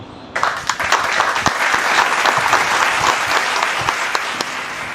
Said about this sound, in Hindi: तो मैं चाहता हूँ कि आप सबसे पहले खुद के लिए तालियां बजाएं.